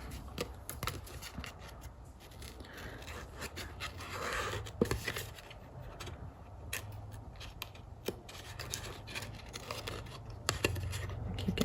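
Scissors cut paper for a Halloween scrapbook layout, a series of crisp close snips in irregular rhythm with soft paper rustles between them, moderately quiet.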